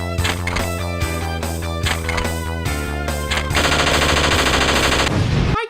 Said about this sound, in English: And what better way to destroy it by shooting guns at it?